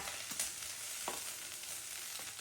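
Chicken sizzles steadily in a pan of oil for fried rice, a constant close hiss with a few brief stirring clicks and no talking.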